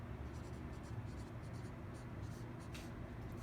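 Pen or pencil writing on paper while genetics notes are taken down, quiet soft scratching strokes in short bursts over a low room hum, close and faint.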